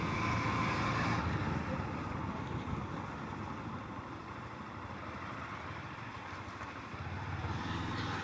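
A Honda CB200X motorcycle ridden fast along an empty road at night gives a steady engine drone with rushing wind noise, fairly quiet and continuous, with no talking.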